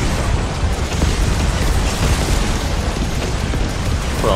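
Airstrike blasts in Yet Another Zombie Survivors roar as a dense, continuous wall of booming explosions, loud and close, with no pauses across a few seconds of sustained detonation noise.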